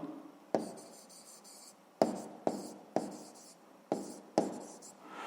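A pen scratches across paper in short repeated strokes, each starting with a tap and trailing off, six or so close bursts with brief pauses between, no speech.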